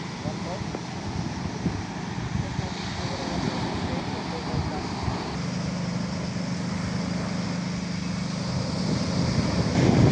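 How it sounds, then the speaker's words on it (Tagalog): A low, steady engine drone from a small boat, growing gradually louder toward the end, over rushing wind and water. "naririnig na po namin yung bangka po ni Tito Ninyo."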